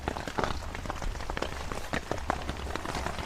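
Rain falls on an island campsite as a dense, steady patter close by, with scattered sharper drops and no voices.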